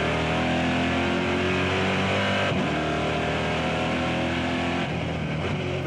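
A NASCAR race car at Dijon screams through a race lap from onboard, a loud continuous high engine wail that dips briefly as the driver shifts, then climbs again, with no voices.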